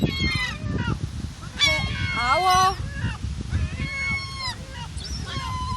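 Seagulls call at the seaside in Sunny Beach, Bulgaria, with repeated loud, nearby squawks and wavering cries, while a person briefly speaks.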